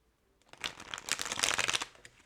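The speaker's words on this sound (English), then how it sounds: "One more shuffle." A deck of tarot cards is shuffled close by in a quiet room, a quick dense riffling flutter lasting about two seconds that builds and then tapers off, with no voices.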